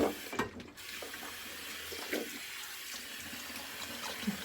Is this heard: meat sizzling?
no